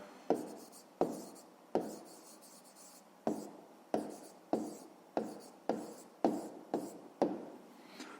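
A pen scratches out a maths answer on paper in a run of about a dozen short, sharp strokes, each starting with a tap, close and quiet.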